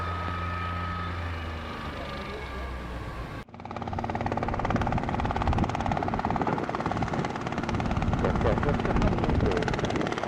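A helicopter flying in to land at Brooklands during a helicopter fly-in event: steady rotor chop and engine whine, loud and close, rising sharply after a brief quieter radio-like stretch and holding strong to the end.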